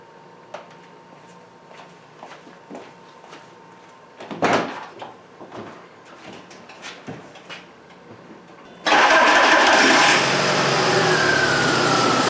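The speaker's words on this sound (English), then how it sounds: "now I'm just going to start the engine to see if it changes or not" Scattered clicks and a brief rattle come first, then an MK4 VW Beetle engine with a weak fuel pump suddenly catches and settles into a loud, steady, slightly rough idle close by.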